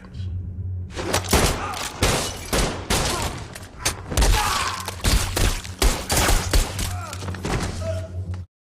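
Rapid gunfire in an action film shootout against Italian mafia men, a dense barrage of loud shots and heavy impacts crowding together over about eight seconds before cutting off abruptly.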